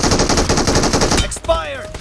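Rapid automatic gunfire from the mobile shooter game PUBG Mobile/BGMI, a loud dense burst for over a second that stops abruptly, followed by a game voice line and softer effects.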